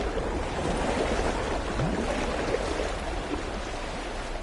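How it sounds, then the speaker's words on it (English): Waves lapping against the side of a boat in the video game No Man's Sky: a steady, close wash of water with soft splashes and a low, continuous background roar, and no talking. "you even get the water sound of waves lapping against the side."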